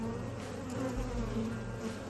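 Honey bees crowd a hive frame of new comb and larvae, a dense continuous close buzzing drone, steady and fairly quiet, with no voices.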